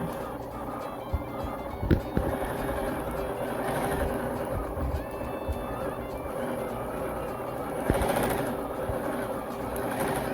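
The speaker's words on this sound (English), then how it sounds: "the sound of the sewing machine sort of speeding up at times and slowing down" A sewing machine doing free-motion quilting runs steadily with a busy mechanical whir, its pace rising and falling at times, with occasional small clicks and knocks.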